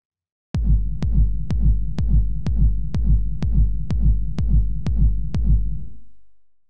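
A kick drum with a Dark Room reverb preset plays eleven deep, booming hits at an even, steady pulse, each with a short roomy tail, and the last hit rings out and fades.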